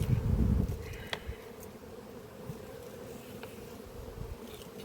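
Honeybees buzz around an open, healthy hive colony with a loud close buzz at first, then a softer steady drone with occasional passing buzzes and no talking.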